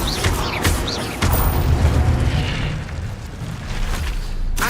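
Incendio fire spell cast in the Hogwarts Legacy video game, a loud booming burst with a sharp onset, followed by sustained rumbling roar and crackle that fades slightly before a brief final pop.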